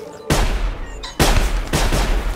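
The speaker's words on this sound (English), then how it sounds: "That was like 3 shots in a row." Gunfire in the stealth survival game Sir, You Are Being Hunted: loud broadband shots land in quick succession, about three sharp blasts with booming tails, with no talk over them.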